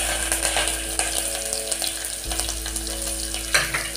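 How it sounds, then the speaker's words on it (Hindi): Bay leaves, asafoetida and chili frying in hot oil in a pan, a loud continuous crackling sizzle with occasional stirring scrapes and a steady low hum underneath. "दो तेजपत्ता डाल देंगे, हल्का सा इसमें हींग डाल देंगे, इसे मिर्चा डाल रहे हैं,"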